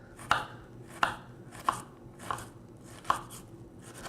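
A knife mincing shallots on a cutting board for lemon risotto, with about six crisp, separate chops spaced evenly and heard close up, with no talking.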